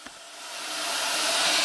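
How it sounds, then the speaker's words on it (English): Steam hissing from a hot water faucet in a rondavel during an overland trip in southern Africa, a steady broadband hiss that builds in loudness over a couple of seconds, heard alone without voices. "I'm going to turn on the faucet now and you'll see the steam coming out here"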